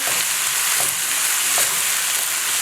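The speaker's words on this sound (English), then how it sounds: "I'm also going to add about 2 tablespoons of minced garlic" Minced garlic, about two tablespoons, frying in a pan for quick fried rice: a constant loud crackling sizzle with faint stirring scrapes, no voices.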